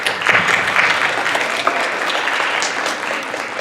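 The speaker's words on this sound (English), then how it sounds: "round of applause" Audience at a women in STEM panel breaking into a round of applause, with brisk crowd clapping that peaks early and then settles into a steady level.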